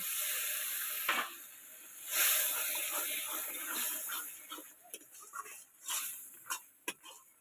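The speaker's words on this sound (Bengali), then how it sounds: "আমি মশলার বাটি ধোয়া একটু জল দিয়ে আর ভালো করে একটু কষিয়ে নেবো" Water splashed into Kashmiri chilli masala frying in a pan, sizzling and hissing steadily at close range, with a sharp burst early on and scattered crackles and spits toward the end.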